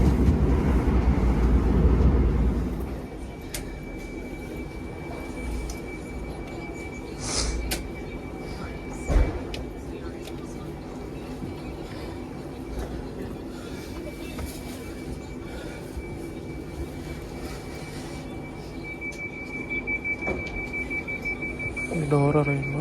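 Train rumble running through green countryside near London, a steady low roll with a louder start that settles, occasional clanks and a faint high whine throughout.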